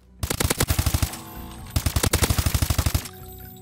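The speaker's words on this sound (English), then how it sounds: "I'm going to jump back into the firing range. As you can see, with the added foregrip, it's very steady." The BAL 27 Obsidian Steed rifle with a foregrip fires on a video game firing range: two close, loud, rapid automatic bursts of evenly spaced shots with a short pause between them.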